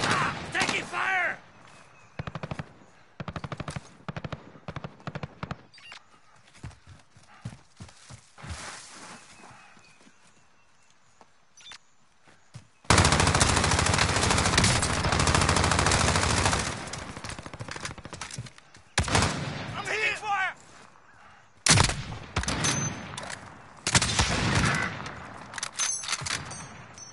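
Gunfire rattles through a Call of Duty: Warzone match in bursts and sustained volleys, loud and close, with heavy stretches of rapid fire between quieter gaps and players talking over the action.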